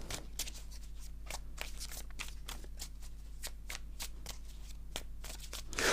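Playing cards are cut and shuffled at close range during a tarot-style card reading, a dense run of quick papery riffles and flicks that swells slightly louder at the end, with no talk over it.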